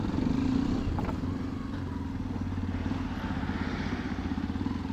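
A motorcycle engine idles and rumbles as the bike pulls away, a steady low throbbing exhaust pulse at moderate level after a brief louder start, no talking.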